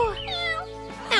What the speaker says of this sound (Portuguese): É um gatinho!